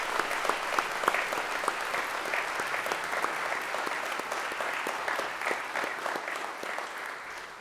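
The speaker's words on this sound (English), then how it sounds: "So a little round of applause for our Bantam hockey team" Applause from a school assembly audience for the Bantam hockey team at a headmaster's gathering, a steady wash of clapping with a few sharper individual claps standing out, sustained throughout and tapering slightly at the end.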